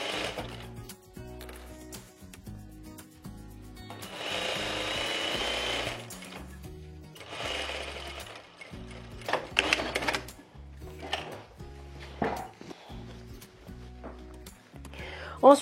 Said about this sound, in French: De l'autre côté, on peut piquer tout le côté.